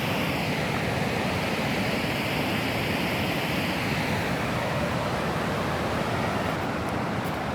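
Clean water flows through a green mountain valley with pine and cypress trees in Ishkoman, Pakistan, a loud, even rush that holds steady from start to finish with no voices.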